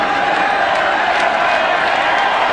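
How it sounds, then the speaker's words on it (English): A stadium crowd at a 1997 Sydney World Cup qualifier football match swells into a loud, steady roar of cheering and clapping, with no break for the whole moment. "this has brought the crowd to life all of a sudden"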